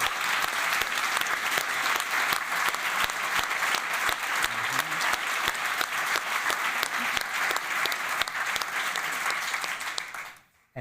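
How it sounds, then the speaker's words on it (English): A symposium audience on deep-sea mining applauds the panel, with dense, steady clapping that carries on for about ten seconds, then cuts off sharply. "A big applause to all of you"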